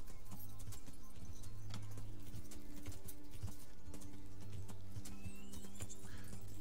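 Horse hooves clip-clop steadily in a video game, with an occasional whinny, layered over looping game music at a constant level.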